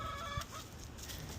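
Chickens clucking at a backyard coop, a quick cluster of short calls near the start over steady outdoor background noise, then fading into ambient hiss.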